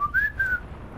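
A character in the video game Sniper Elite 5 gives a single short whistle, a clear rising then steady tone lasting about half a second over a low background hum.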